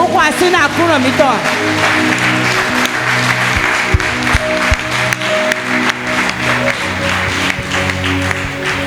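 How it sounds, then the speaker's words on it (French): A church congregation applauds and cheers for the Lord during a Sunday worship service, steady clapping and voices across the whole stretch, with music or singing carrying on underneath. "Est-ce que quelqu'un peut acclamer pour le Seigneur?"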